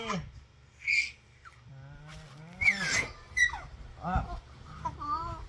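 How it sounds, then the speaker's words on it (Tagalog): A six-month-old baby lets out a series of high-pitched squeals and shouts, close and fairly loud, with an adult speaking softly in between. "Sigaw-sigaw ang baby."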